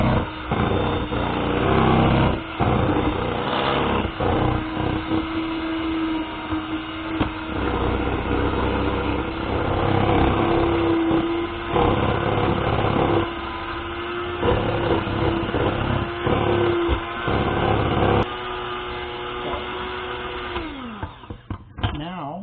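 Sweet potato pie filling churns in a blender, a loud continuous whirring motor drone with pitch shifting as the thick mixture moves, briefly pausing and restarting, with a person talking over it at times.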